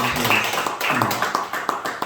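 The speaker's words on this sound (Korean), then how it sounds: "박수!" A church congregation applauds during a Sunday afternoon service, with a dense run of clapping at steady strength throughout and a faint voice underneath.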